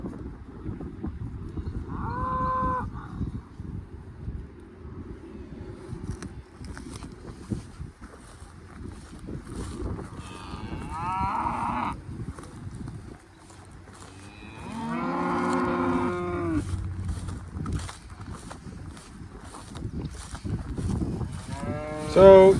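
Cattle moo during sorting in a pen on a farm, with several drawn-out moos from the herd at different distances over steady outdoor noise, shuffling and hoof sounds.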